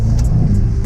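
Mercedes-AMG E63 S engine, a loud, close, sustained low exhaust roar under acceleration, with brief crackling bursts riding on top.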